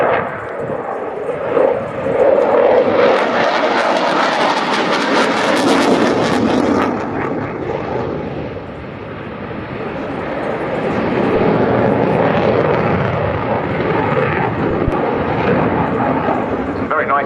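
Czech Air Force JAS 39C Gripen fighter jet flying a display, a loud sustained jet roar that swells and fades as it passes, with a commentator talking over it throughout.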